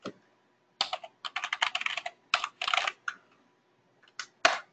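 An email address is typed on a computer keyboard in quick bursts of close, crisp key clicks separated by short pauses, with no talking.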